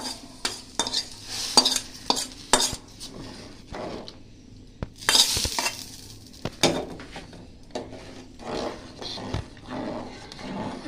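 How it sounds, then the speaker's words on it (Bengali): Tempering being stirred into lentil dal in a home kitchen, with a spoon scraping and clinking against the pot over a soft sizzle, in irregular bursts at close range and without talk. "ডালটা আমি বাগারটা দিয়ে নিই"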